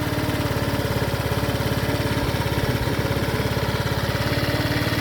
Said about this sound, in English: with the bike running